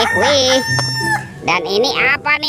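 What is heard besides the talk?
rooster crowing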